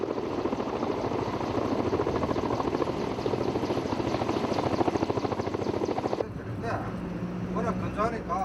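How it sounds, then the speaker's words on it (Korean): Forest firefighting helicopters circling over a reservoir, a loud steady rotor chop and turbine roar that runs continuously, then cuts to a quieter outdoor scene with faint sounds. "항공법상 일몰시에 복귀해야 할 헬기들이지만 약속이라도 한 듯 마지막까지 저수지를 맴돌았다"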